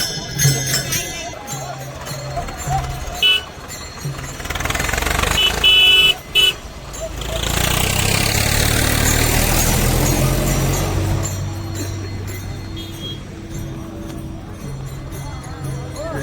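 Car and motorcycle engines of a Pandharpur wari palkhi pilgrimage procession roll past near Velapur, loud and steady with horn toots, an engine swell through the middle and voices mixed in.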